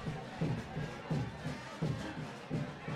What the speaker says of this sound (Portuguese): Bola saiu aqui, a torcida faz festa com a bola.